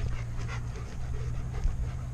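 A German Shepherd dog, limping and loose, pants steadily in quick rhythmic breaths close by, with no speech in the moment and a low outdoor rumble beneath.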